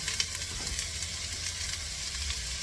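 Onion sizzling in the pot of a pressure cooker while cooking lamb meatballs, a soft, steady hiss with faint crackles, fairly quiet and continuous with no talking.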